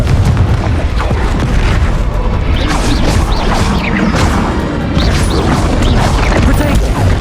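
Blasting Confringo spell explosions during a Hogwarts Legacy battle: loud, dense booms and crashes hitting repeatedly over a constant roar of combat effects, with no pause throughout.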